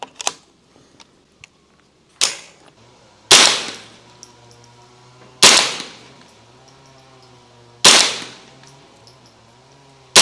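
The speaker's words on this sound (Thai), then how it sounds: "ก็คือ 10 นัดเลยนะฮะระยะ 25 เมตรนะครับมาดูกันว่า กลุ่มมันจะเป็นยังไงนะครับ เราจะยิงแบบช้า ๆ นะครับ" Sharp, loud single shots from a Tippmann M4-22 Elite .22 rimfire rifle fired slowly at a 25 m range, five cracks spaced a second or two apart with short ringing decays and no talk.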